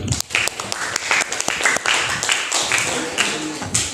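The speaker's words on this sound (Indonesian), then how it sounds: "aplaus juga lah untuk C" A classroom group claps in a brief round of applause, uneven sharp hand claps from a small crowd close by, with some voices mixed in among the claps.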